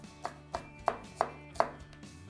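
Five sharp knife strikes chopping an onion into chunks on a cutting board, evenly spaced and distinct, with quiet pauses between each chop.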